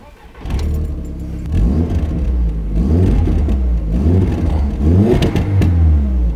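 Audi TT MK1 five-cylinder engine fitted with a full Remus competition exhaust, revved while cold in several loud, rising and falling bursts over a steady rumbling idle, close up with no talk.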